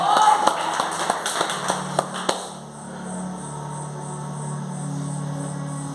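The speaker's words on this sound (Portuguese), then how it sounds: "E as palmas para receber o homem de Deus" A church congregation claps to welcome a preacher, a brisk run of sharp handclaps over the first couple of seconds that fades into a steady room hum with a faint high whine.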